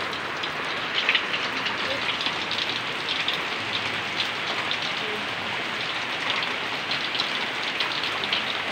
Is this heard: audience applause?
no